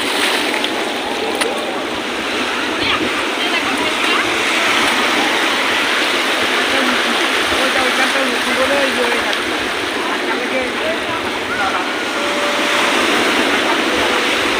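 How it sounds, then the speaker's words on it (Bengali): Sea waves break on the beach at Puri in the late afternoon, a loud, steady, wide roar of surf that barely rises or falls across the whole stretch. "বন্ধুরা দেখো সমুদ্রের ঢেউটা একবার তোমরা দেখো আর আওয়াজটা একবার শোনো"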